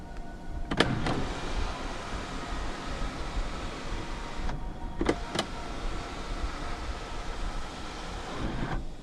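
Sunroof motor of a 2013 Kia Cerato 2.0 running inside the cabin: short mechanical whirs in pairs, one pair near the start and another mid-clip, over a quiet interior hum.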